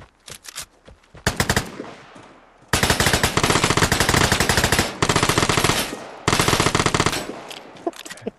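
Automatic gunfire in the video game Vigor: several sharp single shots, then long rapid machine-gun bursts broken by short pauses, loud and close with no talk.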